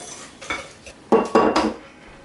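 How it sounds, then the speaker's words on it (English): Coffee extract whisked into cupcake batter in a bowl, a few quick metallic clinks and scrapes of a whisk against the bowl, loudest in a brief burst near the middle, with no talking. "Then whisk it until it's all combined."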